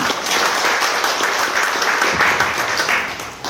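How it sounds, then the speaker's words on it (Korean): A hall full of physicians at a medical association election forum in Daegu applauds a candidate, continuous dense clapping at a steady level throughout. "박수로 반겨주시지만"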